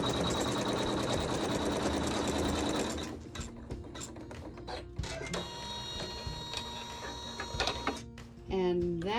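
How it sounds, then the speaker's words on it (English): An embroidery sewing machine stitches a tack-down step on appliqué fabric: a dense, steady mechanical whir for about three seconds, then lighter ticking and clicking of the mechanism with a brief higher whir near the end, fairly close. "So now it's going to sew a tack down stitch for step 4."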